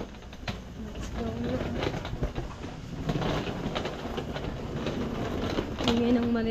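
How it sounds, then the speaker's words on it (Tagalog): Hard suitcase wheels roll with a continuous rumbling clatter over a rough surface, with faint voices in the background and occasional squeaky tones. "Ingay ng maleta."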